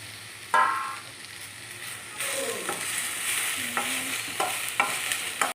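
Coconut, green chillies, mint and coriander hit a hot pan for boti gojju: a sharp clatter, then a loud steady sizzle from about two seconds in, punctuated by scraping stirs, with no speech.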